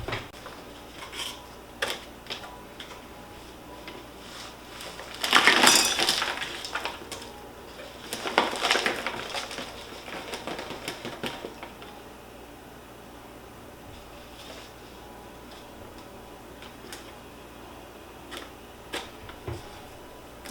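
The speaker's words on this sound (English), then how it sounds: "So let's get it out of its current container, look at the rest of the substrate, see what it is, and then get it into our new pot." An Anthurium metallicum pulled from its pot of sphagnum, coconut coir and leca balls, with rustling, scraping and clattering clay pebbles in a couple of louder bursts amid quieter handling noises.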